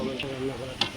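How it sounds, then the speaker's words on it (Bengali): Potatoes frying in hot oil for aloo dum sizzle close by with a steady crackle, while a spoon stirs and scrapes the pan in a couple of short clinks. "আর এদিকে আলুর দমের জন্য আলুগুলো ভেজে নিচ্ছে"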